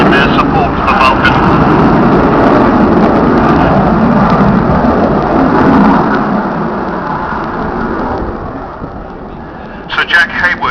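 An Avro Vulcan bomber at an air show roars loudly on its jet engines in a spiralling climb, a heavy, sustained rumble that slowly fades toward the end, with a commentator talking over it.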